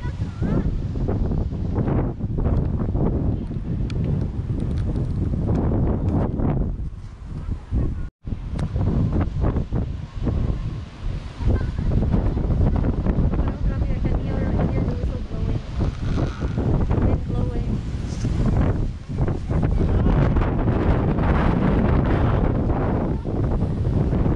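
Strong wind roars and buffets the microphone in heavy gusts during a summer windstorm without rain in Astana, Kazakhstan, with a brief lull partway through and faint voices under the noise.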